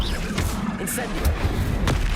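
An Incendio fire spell erupting in Hogwarts Legacy: a brief, loud burst of booming, rushing flame with a heavy low rumble, crackling close by for about two seconds.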